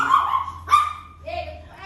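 A dog at an animal rescue in Thailand gives a couple of short, loud, close barks and yips, with people talking alongside.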